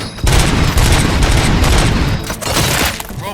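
Gunfire in the video game RoboCop: Rogue City, loud close bursts of rapid shots and booming blasts in quick fusillades, with short gaps between volleys and no talk over them.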